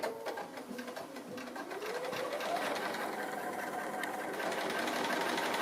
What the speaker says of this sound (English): So I'm going to go ahead on the machine and start on my tree trunk